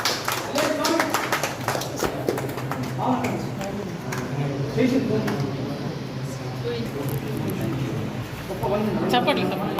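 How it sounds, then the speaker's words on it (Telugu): Scattered clapping from an audience at a Palle song release event, uneven and patchy, mixed with voices talking over it throughout. "చప్పట్లు చప్పట్లు"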